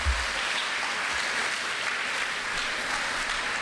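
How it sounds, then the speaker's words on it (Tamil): An office audience claps together in steady, dense applause that fills the whole short stretch at a fairly even level, with no talking over it. "எல்லாரும் நம்ம இந்த ஆஃபீஸரும் சேர்ந்து கைத்தட்டலாம்"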